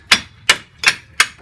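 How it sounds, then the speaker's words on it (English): A hammer taps four times at an even rhythm on a brake pad on a 2004 Dodge Intrepid during a pad change. Each strike is a sharp, close metallic knock separated by brief silence. "Need a hammer to get this guy off. A little tappy tap."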